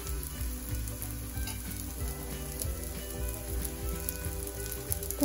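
Oats paratha made from a slightly sticky batter frying in a pan over medium heat, a steady close sizzle with faint stirring and scraping, continuous throughout with no talk.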